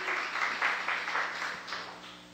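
A church congregation applauds during a sermon, with a moderate, steady patter of clapping in a reverberant room over a continuous low hum.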